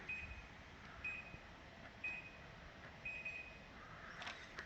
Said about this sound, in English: you'll hear single beeps